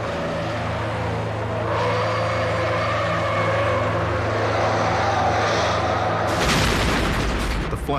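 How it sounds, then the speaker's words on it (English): A car caught in a petrol tanker crash in New Zealand explodes: a steady heavy engine rumble runs for several seconds, then a sudden loud broadband blast bursts in near the end. "It was the car that blew up first."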